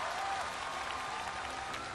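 Audience applause after a fiery singing performance on a music competition show, a dense steady wash of clapping from a large crowd that holds level for the whole stretch without a break.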